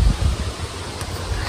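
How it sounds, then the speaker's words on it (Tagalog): Strong wind blowing across a small vegetable garden on a rainy, overcast day, a steady rushing roar with low gusty buffeting against the microphone. "So lakas ng hangin"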